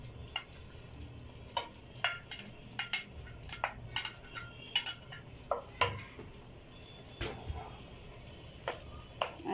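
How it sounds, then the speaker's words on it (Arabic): Stirring boiled pasta, cooked with salt and oil, in a metal pot: a run of close, irregular clinks and scrapes of a utensil against the pot, loud and alone with no talk. "نقلبها بقى التقليبة الحلوة"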